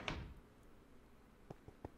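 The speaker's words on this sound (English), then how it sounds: "Bro just slammed the door on him." A wooden door in Minecraft slams shut with a sharp thump at the start, followed by a few softer clicks and taps as the video game sound fades away in a quiet room.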